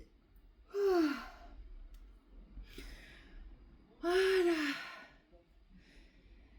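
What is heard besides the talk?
yawning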